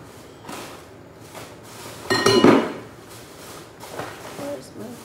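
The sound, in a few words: mixing Moroccan tomato salad in a bowl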